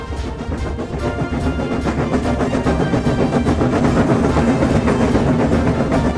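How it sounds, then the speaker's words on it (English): A steam train from the Thomas the Tank Engine series rumbles along steadily and loudly, with continuous rhythmic clatter and chugging throughout, and no voices. "This time Gordon started so quickly they forgot to uncouple Thomas"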